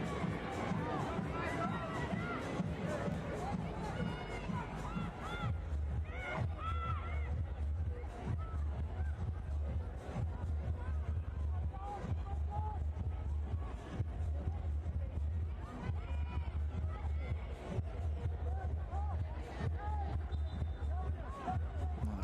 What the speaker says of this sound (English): Crowd patiently waiting for something to happen here.